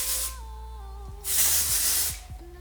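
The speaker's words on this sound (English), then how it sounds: "I'm going to go in with the Orbe Wave and Shine Spray and just give my hair a light" Oribe Wave and Shine hair spray sprays onto hair in two close, hissing bursts: a short spritz, then a longer one. Soft background music plays under the spraying.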